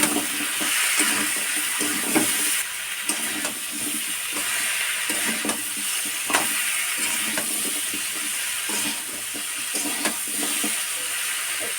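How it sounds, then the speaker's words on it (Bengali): Vegetables for Bengali shukto frying in a pan with salt and turmeric, giving a steady close sizzling hiss broken by occasional clinks and scrapes of stirring. "ডালটা কম করে দিয়ে সুন্দর করে সবজিটাকে ভেজে নেবো"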